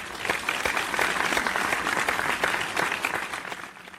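Loud, steady applause from a studio audience in a cartoon quiz show, continuous dense clapping lasting about four seconds at moderate level.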